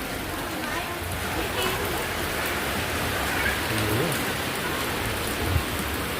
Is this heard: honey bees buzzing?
no